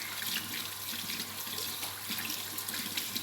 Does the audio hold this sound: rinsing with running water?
yes